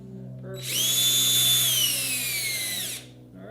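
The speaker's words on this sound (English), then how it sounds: "So that nail drills through that soft wood pretty good, almost like a drill bit." A power drill whines loudly for about two seconds, driving a nail into soft wood, its pitch sagging slightly as it bites in, then stops abruptly.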